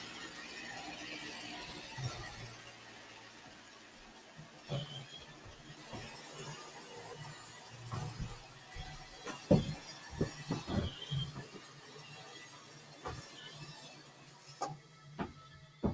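An iAdapt robot vacuum navigating and cleaning a floor, giving a low steady motor hum with intermittent mechanical clicks, bumps and rattles as it turns and moves across the room.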